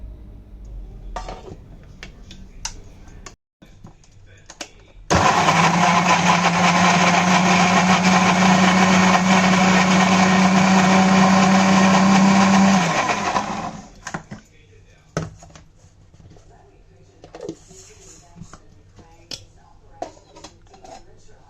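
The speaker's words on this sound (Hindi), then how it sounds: "टमाटर, अदरक और हरी मिर्च को ग्राइंड करूँगी मोटा मोटा, और इसलिए मैंने अदरक को छील लिया, और इसको मैं डाल दूँगी मिक्सी के जार में" An electric mixer grinder grinds tomato, ginger and green chillies in a steel jar, a loud steady whirring roar lasting about eight seconds, framed by quieter clinks and kitchen handling.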